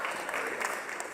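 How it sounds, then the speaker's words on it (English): Audience applause at the Global Priority Summit, honouring a speaker on the summit floor: a short, faint, steady wash of clapping from a crowd, with no distinct individual claps standing out. "Ladies and gentlemen, let's give him a huge round of applause."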